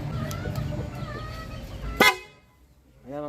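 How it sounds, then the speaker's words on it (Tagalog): A Honda ADV160 scooter horn gives one short, loud blast close by, after a stretch of background rumble and faint voices, then the sound drops away quickly. "Ayan, busina natin."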